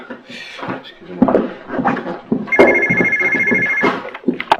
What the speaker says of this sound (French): Un appel pour Madame Delarue